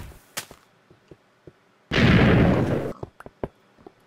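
Minecraft TNT blasts destroying houses: a roughly one-second roaring explosion burst in the middle, framed by sharp pops and cracks before and after.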